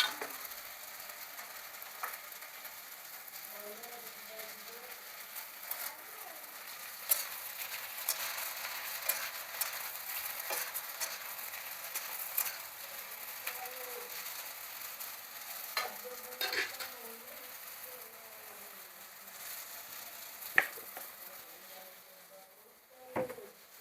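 Potato and eggplant frying in a kadhai, a steady soft sizzle with faint scraping and clinks of a spatula stirring now and then, fairly quiet throughout.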